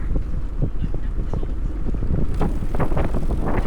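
Strong wind buffets the microphone of a cyclist riding in sub-zero weather at minus 12 degrees, a loud, constant low roar with gusting rumbles throughout.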